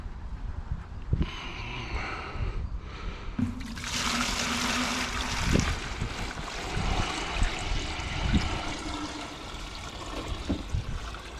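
Liquid is poured gently into a container during gold recovery from RAM and BGA chips, trickling and splashing for several seconds with intermittent clinks and knocks close by.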